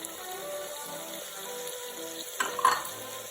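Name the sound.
onion, ginger and garlic frying with chopped chillies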